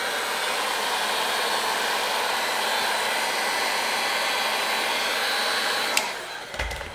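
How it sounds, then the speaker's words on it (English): A heat gun blows a steady, loud, breathy rush of hot air while warming the tinted vinyl edges on a car tail light, cutting off near the end. "And heat up around the edges just so you make sure everything sets in nicely."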